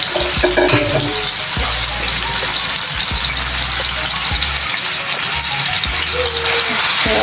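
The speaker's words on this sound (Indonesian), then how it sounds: "kita tumis seperti biasa bikin sambal pada umumnya ya" Sambal stir-fries in a pan with a loud, continuous sizzle and hiss, broken by occasional scrapes and knocks of a spatula; no one talks.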